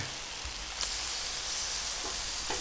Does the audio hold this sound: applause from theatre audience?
no